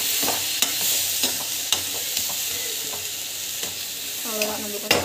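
Food frying and being stirred in a pan during home cooking, with a steady close sizzle and repeated sharp scrapes and knocks of the spoon against the pan, and no talking.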